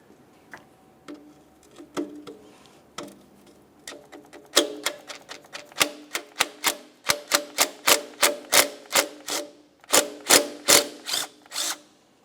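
A 10mm nut is worked off the alternator of a Pontiac Vibe during engine repair, a series of sharp ratcheting clicks, sparse at first and then coming quickly in regular bursts, close and clear with no talking.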